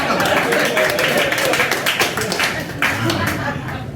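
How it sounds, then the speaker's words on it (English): Audience at a stand-up comedy show gives a quick, scattered burst of clapping, fairly close and steady across the room, with a few people talking faintly underneath. "Counts as applause break, even it lasts half a second."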